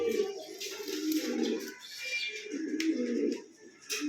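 Soft, low cooing of Lahori pigeons repeats in rolling phrases close by, with faint background noise and occasional light clicks.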